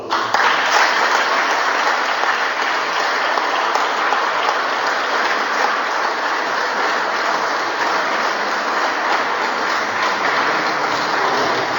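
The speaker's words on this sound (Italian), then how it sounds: "accogliamo con un applauso" An evening audience at a tenore singing performance applauds continuously, a thick even wash of many clapping hands that holds steady throughout with no voices breaking through.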